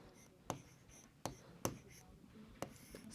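Chalk or a marker taps and scrapes in a few sharp, separate strokes as numbers go up on a board during a Class 3 maths lesson, with faint quiet room tone between strokes.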